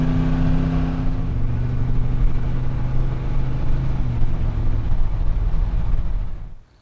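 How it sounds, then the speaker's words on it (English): A 1986 Chevy Silverado C10 truck engine running at a steady, deep idle rumble close up, alone, before cutting off abruptly at the end. "the 1986 Chevy Silverado C10 with the badass motor inside of it"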